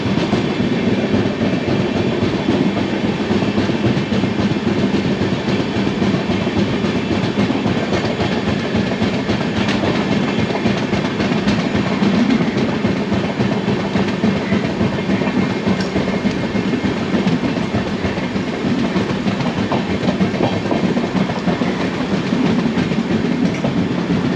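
The UDAY Express double-decker train runs on rails between Visakhapatnam and Vijayawada, heard from inside as a loud, continuous rumble with rhythmic clickety-clack of wheels over rail joints and no talking.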